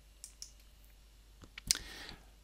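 Soft mouse clicks tap out in a quiet room as a host name is selected on a web page, a few faint ticks and one sharper click near the end.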